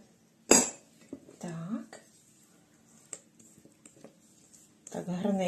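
A spatula scrapes and clinks against a bowl of banana cake batter in short strokes, with a person talking softly between the scrapes.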